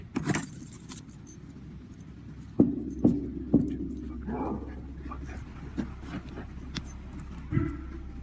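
A bunch of keys jangles loudly up close at the start, followed by a car idling with a few thumps and a dog whimpering in the background.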